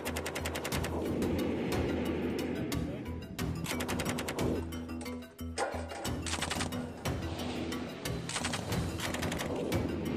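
Bursts of machine gun fire at a crew-served weapons familiarization range in Djibouti, rapid repeated shots rattling continuously and loudly across the whole stretch, with short gaps between volleys.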